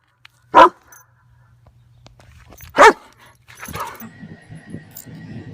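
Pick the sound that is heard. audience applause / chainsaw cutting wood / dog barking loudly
dog barking loudly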